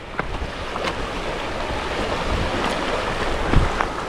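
Rushing river water where the Guadalevín and Guadalcobacín meet to form the Guadiaro, a steady broadband roar with a few brief splashes, heard close and alone.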